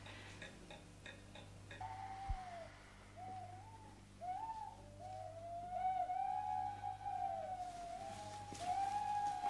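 An owl hoots in a 1976 Czechoslovak fairy-tale film, giving a run of wavering, sliding tonal calls that grow louder and more insistent over a faint steady hum, with no voices.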